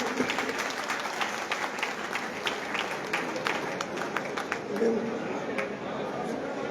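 Steady applause from a crowd at an outdoor rally stage, continuous clapping with people talking underneath, moderately loud throughout.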